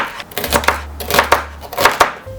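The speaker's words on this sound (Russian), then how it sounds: "Для аромата нарезаю корень сельдерея." Knife chopping celery root on a cutting board for an Uzbek dimlama, a quick series of crisp, close chops in an irregular rhythm, about six cuts with no talking.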